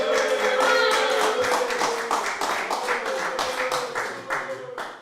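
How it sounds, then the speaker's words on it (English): A round of applause at a prize draw: a small group claps steadily under a speaking voice, the claps gradually thinning toward the end. "So if you want to all give Richie a big round of applause there."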